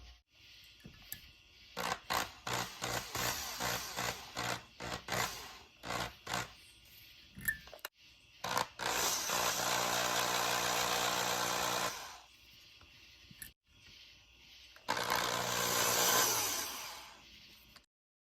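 A power drill whirs in short bursts, then runs in longer steady stretches as it bores holes through a fishing lure, with brief pauses between runs.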